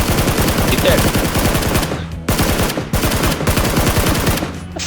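Rapid bursts of video game gunfire, loud and sustained automatic fire with brief pauses between volleys, playing under excited voices of players talking.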